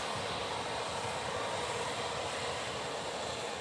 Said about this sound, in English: After liftoff, Falcon 9's first stage accelerates through the Earth's atmosphere and into space using 9 Merlin M1D engines